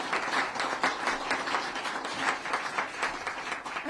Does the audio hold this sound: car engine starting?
no